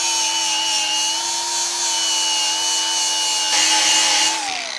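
A grinding wheel blends a weld on the skeg of a 1975 Mercury 20hp outboard motor, giving a steady, close, high whine that holds unbroken and dips slightly in pitch as it winds down at the end.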